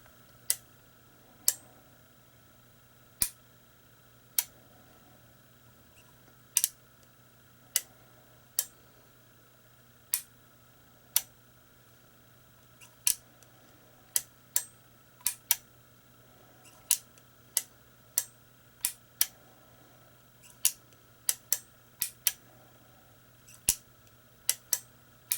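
Standard Manufacturing single action revolver being cycled by hand, giving a long run of crisp, isolated metallic clicks at an irregular rhythm, close and fairly quiet against a faint steady hum.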